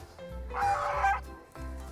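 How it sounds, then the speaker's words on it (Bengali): A pair of geese at a picnic spot by a pond, one loud honking call rising in the middle of the moment between quieter, harmonic bird sounds, fairly near with no speech. "এই যে দুটো রাজহাঁস আছে"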